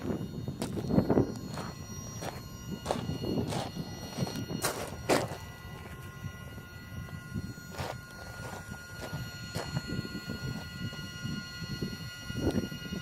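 Irregular footsteps thump and crunch on hard ground at a steady walking pace across a railroad crossing, with sharp clanks as feet strike metal rails, outdoors with low background rumble.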